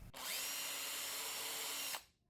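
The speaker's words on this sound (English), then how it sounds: "you will need to drill the holes like this" A power drill bores mounting holes through a metal hand truck frame, one loud continuous burst of about two seconds before the motor cuts off.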